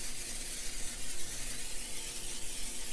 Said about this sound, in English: Just going to spray my pan with a little spray oil.